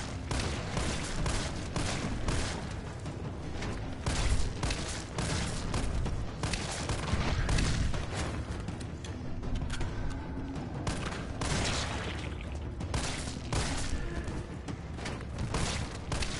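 Resident Evil 3 gunfire, rapid repeated shots and bursts with booming impacts, dense and continuous throughout, loud and close with intermittent mechanical clanks.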